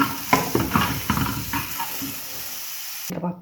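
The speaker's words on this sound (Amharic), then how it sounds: "ሽንኩርቱን እንደዚህ ቀላ እስከሚል ጠብሻዋለሁ" Onions frying in a pan with a little oil for Ethiopian fish gulash, a soft sizzle under repeated stirring scrapes and clatter, close by, cutting off near the end.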